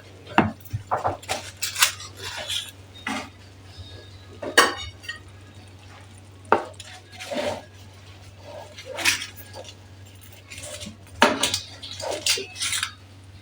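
Oven-baked palamut (Atlantic bonito) is moved onto a serving plate. Sharp dish clinks and utensil scrapes come in scattered bursts against a quiet background with a low hum.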